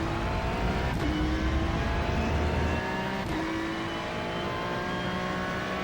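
A Ferrari 296 GT3 in iRacing at Monza accelerates hard at full throttle, its engine note climbing steadily with two sharp upshifts, loud and close with no voices.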